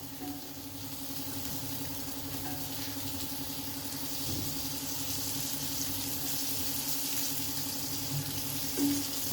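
Surmai fish frying in a pan with a little oil, a continuous steady sizzle with a faint hum underneath, close and even throughout, with one small pop near the end and no talking.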